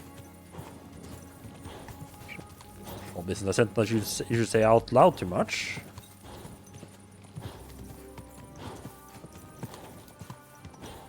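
Horse hooves clip-clopping in Kingdom Come: Deliverance II, a spirited stolen horse moving in a quick irregular rhythm, swelling louder midway with snorting or whinny-like bursts, while someone talks over it.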